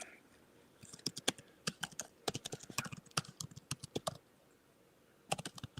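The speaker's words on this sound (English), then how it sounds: "I don't know what he's typing away here." Computer keyboard typing during a livestream, rapid irregular key clicks in bursts with a short pause before a final flurry, close and fairly clear with no talking.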